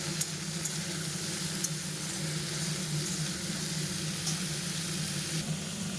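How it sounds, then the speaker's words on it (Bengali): Vegetables fry in a pan for lentil dal, making a continuous close sizzle with a steady low hum beneath it and no speech. "সবজিটাকে একটু ভেজে নেবো আগে"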